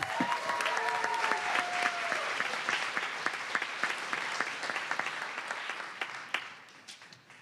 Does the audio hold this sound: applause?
yes